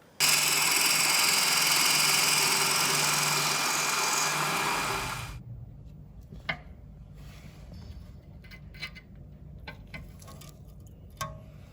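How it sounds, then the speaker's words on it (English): A seized suspension bolt on a 2013-2018 Toyota RAV4 is cut out with a power cutting tool that whines loud and steady for about five seconds, then stops, leaving faint clicks and taps. "so now I'm going to have to cut this bolt out"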